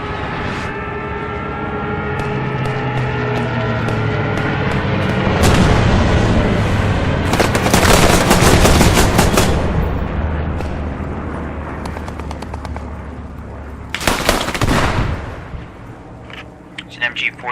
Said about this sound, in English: It's an MG42 in that middle marker on the second floor.